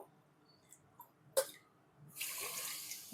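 Faint clicks and knocks, then water pours into a pot of sugar for syrup in a steady splashing stream for about a second.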